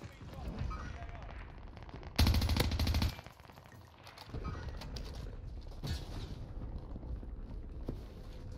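Gunfire in the battle royale shooter Warzone: one loud, close rapid burst of about a second over quieter background game noise and scattered distant shots.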